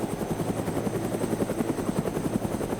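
A helicopter in the video game DayZ thrums close by with a fast, steady rotor beat and engine whine, loud and continuous, with no talking.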